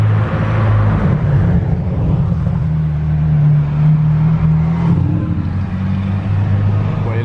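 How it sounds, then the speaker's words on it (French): McLaren Senna supercar arriving at a supercar owners' gathering, a loud, steady low engine drone with a rising rev midway, close and continuous over a busy outdoor background. "Maintenant il y a la McLaren Senna de Schmi qui arrive."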